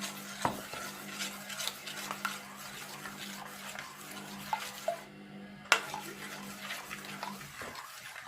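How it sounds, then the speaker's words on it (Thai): A spoon stirs a cooled coconut ice cream mixture made from canned coconut milk in a pot, giving repeated close clinks and scraping taps over a steady low hum, with no talk. "อันนี้นะคะก็เย็นแล้ว เราจะ คนเขานิดนึงนะคะ"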